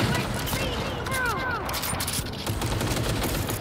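Rapid gunfire from a video game shooting match crackles in a dense, steady stream at close range across the whole short stretch, with a voice faintly underneath.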